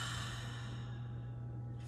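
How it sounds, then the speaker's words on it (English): A deep, slow exhale during a guided breathing meditation, a soft steady breath sound over a constant low hum, fading out near the end with no talking. "And then exhale, let it go."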